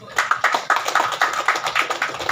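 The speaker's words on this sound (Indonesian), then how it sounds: "tepuk tangan buat Pak Dan Lanu" Audience applause at a kitchen facility opening ceremony in Majalengka, with steady rhythmic hand claps from a modest crowd, fairly close and alone, lasting a couple of seconds.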